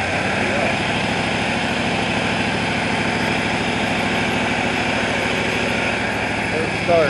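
An engine cranks over and runs steadily on a makeshift rig with a jury-rigged pump and ignition, a loud, constant droning rumble throughout, close up.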